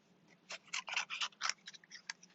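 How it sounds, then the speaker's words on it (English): Scissors fussy cut around a stamped paper peach, making a quick run of close, crisp snips and paper rustles in an otherwise quiet room. "So I'm just quickly fussy cutting around the peach"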